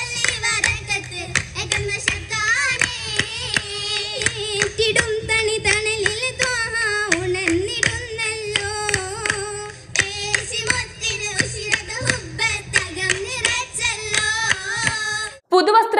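Oppana dance companions at a Wandoor Sub District Kalolsavam clap their hands in a steady, brisk rhythm, sharp claps repeating throughout under group singing.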